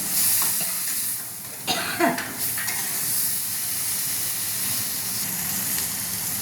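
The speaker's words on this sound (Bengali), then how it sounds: "সেই দুধটা মালাইকারিতে দিয়ে দিচ্ছে, মশলার মধ্যে আর চিংড়ির মধ্যে দিয়ে দিচ্ছে। দিয়ে নেড়ে নিচ্ছে।" Milk stirred into a thick prawn masala for malai curry: a soft steady sizzle and hiss with a few brief scraping stirs of a spoon near the middle, no talk.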